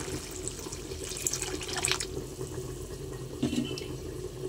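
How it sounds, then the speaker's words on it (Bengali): Hot water poured into a cooking pot of tehari splashes and trickles in a steady, close stream, with a few small clinks near the end. "এবার পরিমাণ মতো গরম জল দিয়ে দিচ্ছি।"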